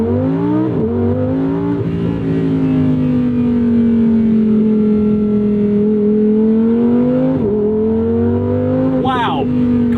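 2024 Lamborghini Huracan Sterrato engine in sport mode, loud and close, with a blip early on, a long sustained drone and a sharp rising rev near the end.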